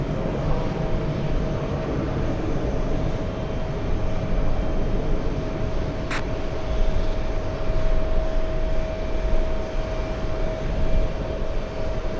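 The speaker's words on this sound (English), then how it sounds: "We have Delta's 405 flying in from San Francisco. Landed on the bad runway." A Delta airliner in from San Francisco rolls along the runway at JFK airport, a steady, loud jet engine roar with a sustained whine, heard from a distance with no speech.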